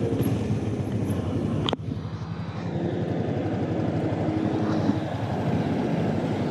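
A Honda CB300F Twister motorcycle engine drones steadily throughout while being ridden, with a brief sharp click partway through and no talk.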